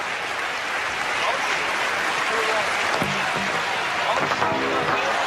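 A stadium crowd at a European Championships pole vault qualification in Zurich claps in rhythm, a dense wash of distant applause with a few sharper accents, steady throughout and heard without any talk on top.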